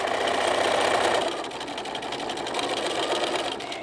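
A sewing machine runs steadily while stitching a fabric eyeglass case, producing a loud, continuous whirring hum that eases slightly partway through before continuing.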